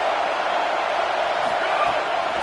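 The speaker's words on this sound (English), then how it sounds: "Big 3rd down as the crowd gets behind this defense." Stadium crowd at a college football game producing a dense, loud, continuous roar of cheering on third down, steady throughout with commentary faintly underneath.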